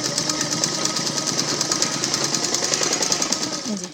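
Sewing machine stitching a garment leg piece, a loud continuous rapid mechanical chatter running steadily throughout.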